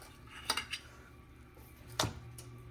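Jerk pork being turned over in a pan in an oven, two distinct metallic clinks of utensil against pan about a second and a half apart, with faint sizzling between.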